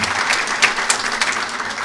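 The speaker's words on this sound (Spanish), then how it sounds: "Por favor, aplausos para él." Audience applause at an international legal conference, a steady wash of hand-clapping from a seated crowd, sustained and fairly loud throughout with no talk over it.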